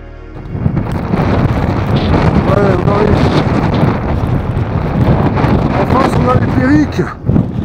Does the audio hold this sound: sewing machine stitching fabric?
no